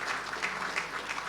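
An audience applauds after a speech at a celebration of India–Bangladesh friendship, with steady, moderately distant clapping from a modest crowd and no voices over it.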